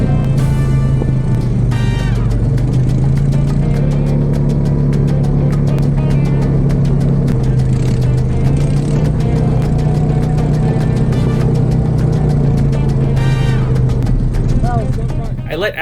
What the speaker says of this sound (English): we hop onto our ATVs and ride through the Dominican dusty backcountry